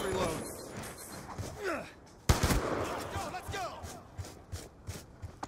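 Gunfire in a trick-shot video game, with several sharp shots scattered over busy game sounds and one loud, close blast near the middle. Voices talk excitedly over it.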